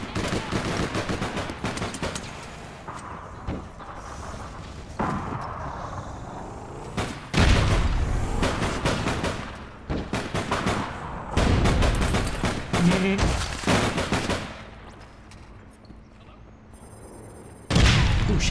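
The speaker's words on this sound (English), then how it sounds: "where's these grenades coming from?" Grenade blasts and gunfire in the online game APB Reloaded, with loud booming explosions and bursts of rapid shots in heavy clusters, the strongest hits near the middle and end, mostly alone with little talk.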